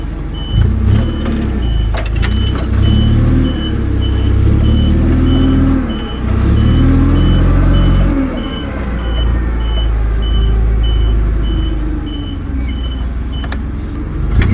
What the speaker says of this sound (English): I'm going to make use of the forklift